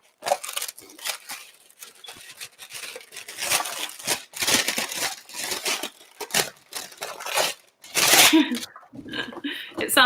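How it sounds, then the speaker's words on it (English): Baking paper crinkles and rustles while being handled in a cooking class, irregular bursts of crackling close by, one loud crumple near the end, with speech around it. "It's the baking paper."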